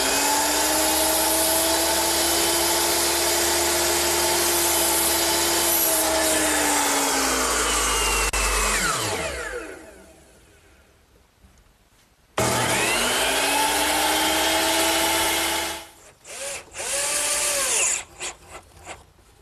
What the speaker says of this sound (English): Now I'll just tilt my saw to 13 degrees, the same bevel that we used on the ridge and the fascia, and that'll be the right cut for the rafters.